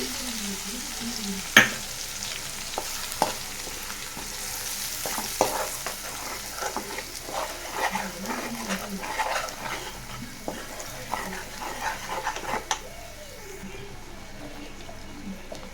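Masala with coconut powder, coriander and spices sizzling in a pan, a steady mid-level fry with intermittent spoon scrapes and stirring clatter, tapering off quietly at the end.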